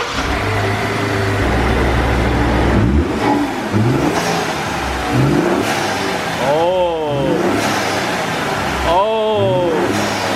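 A 2017 Ford F150 EcoBoost fitted with a K&N cold air intake is revved several times, each rise and fall of engine pitch loud and close, with voices talking over the idle between revs.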